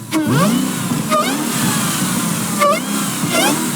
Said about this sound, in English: It sounds a lot better revving than when you first started it.